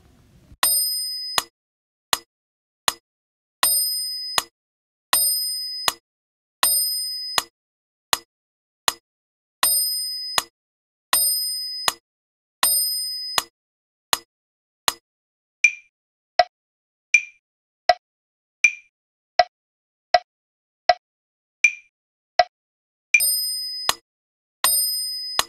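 Pro Metronome app clicking out Carnatic Aadi Thalam, a steady series of sharp bell-like ticks at an even pace, with a brighter accented click opening each cycle and a softer, different-pitched tone marking a middle section, loud and alone.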